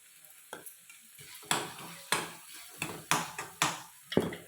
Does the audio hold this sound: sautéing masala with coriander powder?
yes